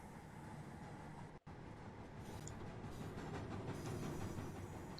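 Class 166 diesel unit 166218 on the 12:07 service to Weymouth approaching Bath Spa station, a steady low rumble with a hiss over it that builds slowly and continuously, with a brief dropout partway through.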